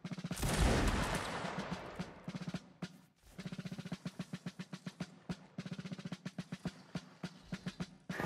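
A line of troops fires a musket volley in Mount & Blade Napoleonic Wars, a loud ragged blast that rumbles away, followed by a long run of sharp, evenly spaced rhythmic thuds.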